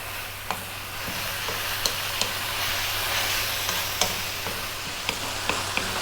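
Shell-on shrimp (prawns) stir frying in a pan with garlic, a continuous sizzle punctuated by sharp clicks and taps of stirring throughout, with no talk.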